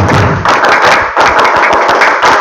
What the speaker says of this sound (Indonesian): coba saya pengen tepuk semangatnya